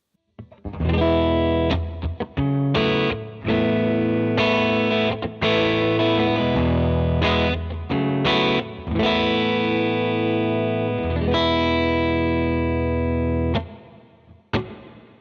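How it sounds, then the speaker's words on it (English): An electric guitar played through a room reverb pedal plays a series of chords and notes with a roomy reverb tail, with sustained ringing and brief pauses between strums. "right now I'm using it for kind of a standard room reverb sound"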